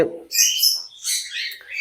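Parrots at a bird farm give a quick series of sharp, high chirps and tweets close by, in short bursts separated by brief gaps.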